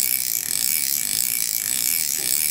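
Drag clicking from a Banax baitcasting fishing reel, a fast, steady, bright ratcheting buzz that runs continuously and close up, with no voices.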